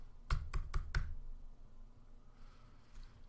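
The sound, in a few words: computer keyboard and mouse clicking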